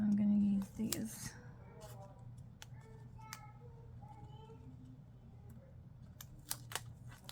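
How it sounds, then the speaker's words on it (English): Small scissors cut paper in a few faint, crisp snips over a low steady room hum, close by and quiet. "I really don't like using these scissors because they're so darn small."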